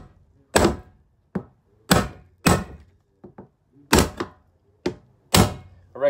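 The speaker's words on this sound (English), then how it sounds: "first tap straight down on it to break the seal from the Teflon tape" A tool taps down on an Airstream camper toilet flange to crack the Teflon-tape thread seal, giving about eight sharp, close knocks at an irregular pace, with no talking.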